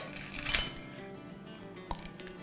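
A cooking pot being handled as washed white chickpeas are readied, giving a bright metallic clink of pans and cutlery near the start and a single sharper knock later, close and fairly quiet.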